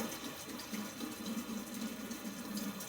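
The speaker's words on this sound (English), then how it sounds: "Let me wash my hands again." A kitchen tap runs steadily while hands are washed, a faint, continuous stream of water splashing into a sink with slight gurgling variation and no talking.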